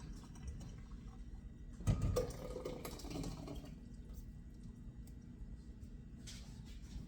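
Liquid is poured into a pot for cream of tomato soup in a home kitchen, a brief splashing gush near the start followed by softer trickling and dripping.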